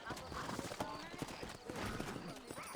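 In the Red Dead Redemption video game, horse hooves clip-clop in a quick uneven rhythm under steady talking, with a brief whinny mixed in.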